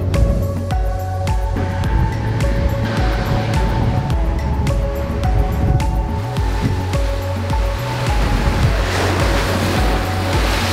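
Strong wind from Storm Sierra roars steadily at the shore of Lake Geneva, Switzerland, with water churning and washing against the shore in a continuous, loud rush.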